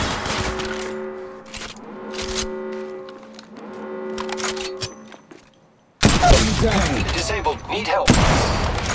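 Gunfire in the mobile battle royale game Apex Legends Mobile: scattered sharp shots and bursts over a tonal game backdrop, then a sudden loud stretch of dense, rapid firing and impacts near the end.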